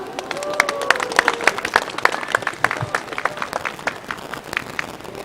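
Audience at a candlelight protest rally in front of a party headquarters applauds to welcome a singer, with dense, uneven claps and crowd noise that stay steady throughout and a voice briefly heard near the start.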